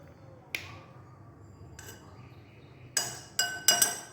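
Ice cubes clinking into a glass while preparing aam panna, a mango drink with mint flavour: a sharp clink, a lighter one, then three bright clustered clinks near the end over quiet room tone.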